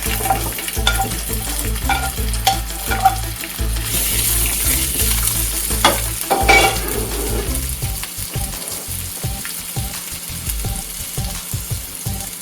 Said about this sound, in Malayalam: ഇനി ആ സെയിം ഫ്രൈ പാനിലേക്ക് ക്യാപ്സിക്കം ഇട്ട് അതൊന്ന് വഴറ്റിയെടുക്കാം